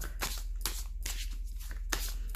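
A deck of oracle cards is shuffled close up, several quick riffling bursts in an irregular rhythm over a low background hum.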